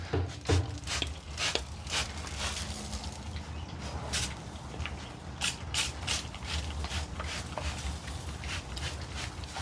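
A spray bottle mists water around the edges of a smoking chuck roast, a series of quick, crisp trigger squirts in an uneven rhythm, close and fairly loud.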